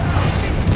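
Confringo blasting spell exploding in the video game Hogwarts Legacy: a short, loud, dense burst with a heavy low boom that fills the whole moment.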